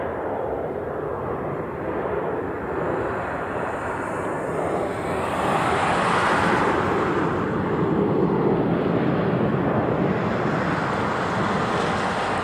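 A Japan Air Boeing 787 Dreamliner jet at Honolulu airport gives a steady, broad roaring rush that swells slightly partway through and holds loud and continuous, heard from a distance outdoors.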